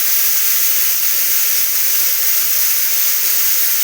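Cubed potatoes and cluster bean pieces fry in a hot pan for a Telugu curry, giving a steady, loud, close hiss of sizzling oil that holds constant throughout with no talking.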